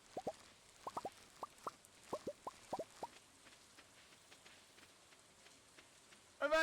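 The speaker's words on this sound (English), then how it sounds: "Oh no, because of the rain." Rain in Stardew Valley comes through as soft, sparse droplet plops, a dozen or so irregular taps over a quiet hiss, followed by a brief louder burst at the end.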